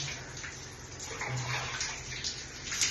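Water runs from a shower while a bowl is washed up, making a soft, steady splashing hiss that stays constant throughout and sounds fairly close but quiet.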